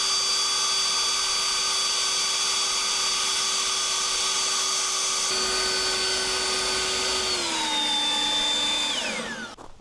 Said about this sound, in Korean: 뭐 송풍기 해볼까요?